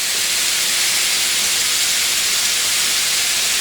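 Olive oil, onion and garlic sizzling in a pan for fresh tomato sauce, a loud, steady, bright hiss that fills the whole stretch without a break and with no talk.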